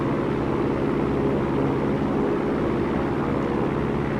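Piper Cherokee engine at full throttle in a flight simulator, a steady droning propeller-engine roar, continuous and even throughout, with no talking.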